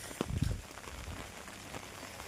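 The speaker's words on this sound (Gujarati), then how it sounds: "ફાઇનલ મિત્રો વરસાદ ચાલુ થઈ ગયો છે." Unseasonal rain falls outdoors as a soft, continuous patter, with a cluster of louder nearby drops or knocks at the start.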